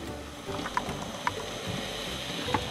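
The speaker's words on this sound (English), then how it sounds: "Ocean white noise" Ocean white-noise setting on a Fisher-Price Ocean Wonders Aquarium baby toy, a steady wash of broadband noise with a few faint tonal chimes sounding at intervals.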